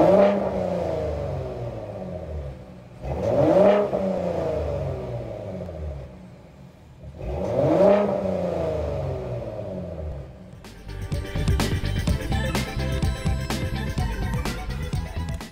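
A 2021 Ford F-150 Raptor's EcoBoost engine blips its throttle three times, each rev rising and falling as a loud, close exhaust roar, followed by a steadier, grittier high-revving drone with clattery mechanical texture.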